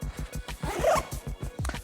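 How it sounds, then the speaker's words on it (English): A YKK zipper on a Kriega US30 motorcycle bag being drawn open in a rapid series of short ratcheting rasps, close up and crisp, with no voices. "By the way, the zippers, it's YKK"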